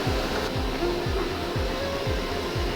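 A CNC machine cuts a dimple into a metal part, giving a steady whirring drone with a regular low pulsing that repeats about twice a second.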